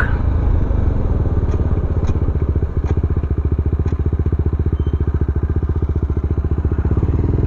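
A BMW G310GS adventure motorcycle idles close by during a tight turning-radius check, its single-cylinder engine putting out an even, rapid low thumping throughout with a few faint clicks on top.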